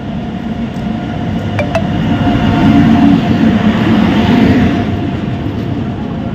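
The Ranchi Shatabdi Express rolls into a station platform with a loud, steady rumble of wheels and carriages, a brief horn-like tone rising above the roar early on.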